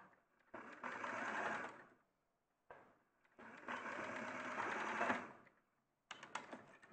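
A sewing machine stitches fabric over a leg section, running in three close bursts of steady rapid whirring with brief pauses between, quiet and with no talking.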